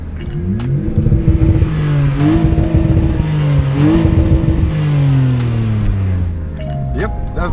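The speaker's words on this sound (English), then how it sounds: "that's the first guy revving his engine" A car engine revs repeatedly at a car meet, with rising and falling pitch sweeps heard from a short distance over the steady background noise of the street.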